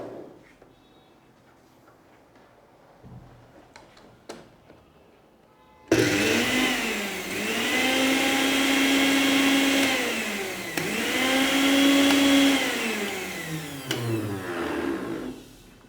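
A juicer mixer grinder with a newly fitted motor, previously defective, starts abruptly and runs loud and steady with a high motor whine that rises and dips in cycles, after a quiet stretch of faint handling noises.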